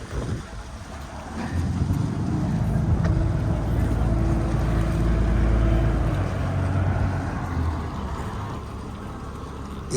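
Boat engine rumble and wind as a tour boat arrives at Akdamar Island on Lake Van, a steady low drone swelling slightly then easing, with heavy wind buffeting the microphone.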